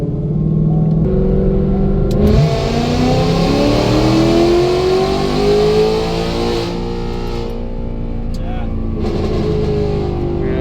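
Whipple stage 2 supercharged S650 Mustang on a dyno, its engine revving loud and steady with a rising pull, then easing off, with supercharger whine riding over the rumble.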